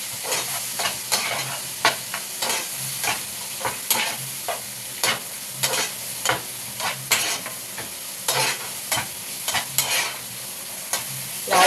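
Spice paste with turmeric and salt frying in a pan, a utensil scraping it in brisk, regular strokes over a continuous sizzle, loud and close with no talk.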